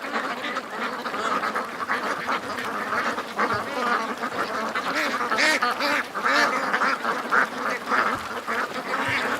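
Several ducks quack loudly and repeatedly near a person holding a shotgun, overlapping calls in a busy, continuous chorus close by.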